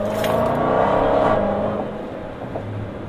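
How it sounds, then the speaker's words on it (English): A supercharged Dodge Hellcat engine pulls hard, its steady whine riding over a loud, rising exhaust drone before easing off and settling lower, close and continuous with no talk. "That supercharger whine is absolutely awesome."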